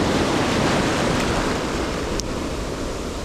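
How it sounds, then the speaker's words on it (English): Ocean waves surge and wash onto the shore in a loud, continuous roar close to the microphone, mixed with wind buffeting. "trying not to get destroyed by waves right now"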